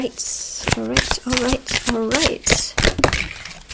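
Tarot cards being shuffled up close, a run of quick riffling bursts, with a person talking over them.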